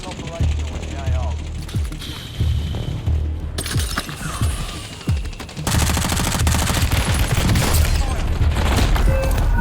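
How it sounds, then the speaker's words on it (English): Rapid automatic gunfire from a shooter video game on Ashika Island rattles in loud, dense bursts, with sharp single cracks early on, then a steady unbroken stream of shots, while a voice talks over it. "Oh, I'm just shooting people."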